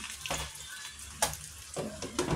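Galunggong fish frying in a pan, a soft continuous sizzle broken by several louder crackling bursts and spatters, close and unaccompanied by talk.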